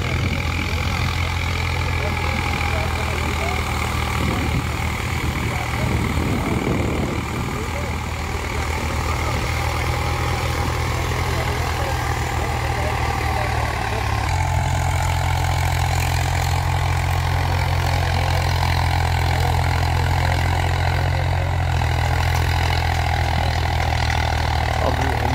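A tractor engine runs steadily at load while pulling a 7-foot rotavator in a field, a loud continuous low diesel drone with a slight shift in pitch partway through, and voices talk over it.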